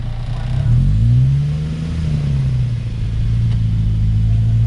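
A Ford Sierra's engine revs up loudly and close, a deep rising and falling drone that swells, dips, then settles into a steady idling rumble.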